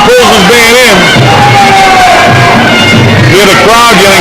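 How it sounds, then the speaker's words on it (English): A boxing crowd yells and shouts at a fight, loud and constant, with a voice calling out over the roar. "You hear the crowd yelling behind me"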